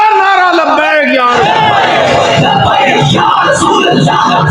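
A crowd loudly chants a religious slogan in unison, voices rising together in a sustained, forceful roar, close and dominant throughout the clip.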